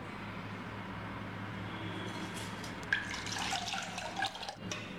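Running water splashes and trickles steadily, with small drips and a brief sloshing burst near the end, as soaked rice is rinsed in a bowl for idli.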